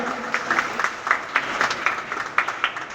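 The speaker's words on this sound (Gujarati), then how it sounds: "આપણે કરણને તાળીઓથી અભિનંદન આપીએ" An audience at a student award ceremony applauds steadily, a dense patter of many hands clapping at close range, fairly loud throughout.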